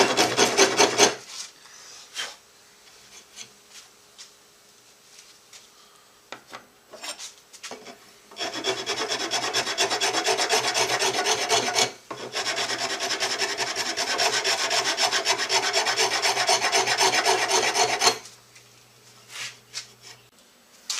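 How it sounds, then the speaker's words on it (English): A belt sander grinds against a wooden guitar body with a Les Paul-style shape, with short scraping passes at first, then two long, loud, steady sanding runs broken by a brief pause. "Belt sander."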